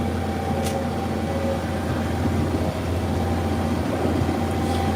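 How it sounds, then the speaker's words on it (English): A new John Deere tractor's engine runs steadily in a continuous low mechanical drone with a strong low hum, holding constant and fairly close throughout. "We just got this tractor here. I think it was new this spring we got it."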